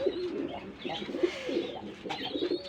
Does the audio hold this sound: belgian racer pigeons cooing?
yes